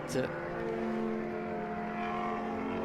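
GT race cars in a BaTCC race at Pärnu roaring down the straight, a sustained engine drone at moderate distance running under commentary throughout.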